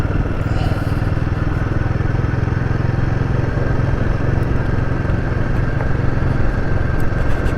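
Royal Enfield Guerrilla 450 motorcycle engine chugging along steadily in second gear, a continuous low throbbing drone heard close and loud throughout with no talking.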